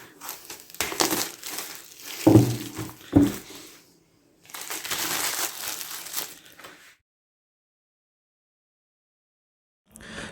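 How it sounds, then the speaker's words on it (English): Crinkling plastic and paper as an iPad Air package is unwrapped: close, uneven bursts of rustling and crumpling with a few sharper crackles, separated by pauses of silence. "So now let me unwrap the package."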